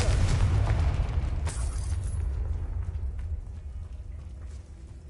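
A Confringo spell cast in Hogwarts Legacy lands as a loud, booming blast at the start, then a rumbling low roar that slowly fades across the next few seconds.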